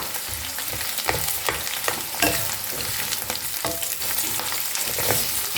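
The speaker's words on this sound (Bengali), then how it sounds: "আলুটা ভাজা হয়ে গেছে, হাফ ভাজা হয়ে গেছে, এর মধ্যে পেঁয়াজটা দিয়ে দিচ্ছি" Half-fried potatoes with onions crackle and sizzle steadily in hot oil, with periodic scraping stirs about once a second, close and fairly loud, no talking.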